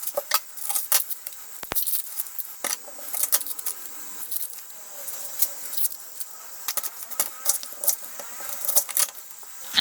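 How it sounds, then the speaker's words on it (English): A knife cutting onions into big pieces on a board, irregular crisp chops and sharp taps in quick uneven bursts, close and clear, with no talk. "you remove the top layer of them and then you cut them into big pieces."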